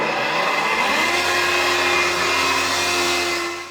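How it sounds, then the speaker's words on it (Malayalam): An electric mixer grinder pulverises raw Brahmi leaves into powder with a loud, steady, high-pitched whir. It runs continuously and close up, easing slightly at the very end, with no voices. "പക്ഷേ നമ്മളിത് പച്ചയ്ക്കാണ് ഇത് പൊടിക്കുന്നത്."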